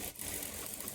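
A sewing machine stitches the armhole darts of a plain blouse, a brief continuous whirring motor hum with faint mechanical rattle.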